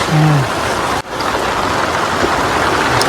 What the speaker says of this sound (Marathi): जोरात पाऊस आला